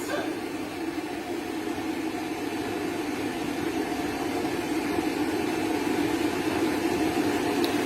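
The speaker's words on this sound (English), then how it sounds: "What's nice about the heat dryer is that it's much quieter than the force dryer." A heat dryer blowing on a poodle during grooming gives a steady, even whoosh of air with a low hum, unbroken throughout.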